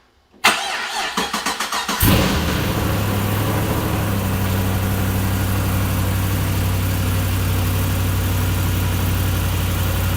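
An old former police fleet work van, later fitted with a supercharger, cranks briefly with a rapid stuttering whir, then its engine catches and settles into a steady, loud, close idle with no talking.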